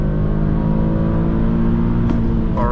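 A 2017 Infiniti QX70 AWD accelerates hard uphill from a launch, its engine droning loud and steady as heard from inside the cabin.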